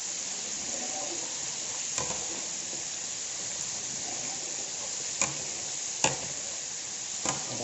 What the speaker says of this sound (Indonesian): Kita goreng ikan dulu